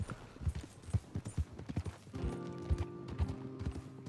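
Steady clip-clop of horse hooves trotting at an even pace in Red Dead Redemption 2, close and clear, with a game-style musical tone swelling in halfway through.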